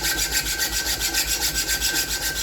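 A metal file rasps back and forth across a steel knife blade while a mottled pattern is worked into the surface, giving a steady, close, rhythmic scraping of quick repeated strokes.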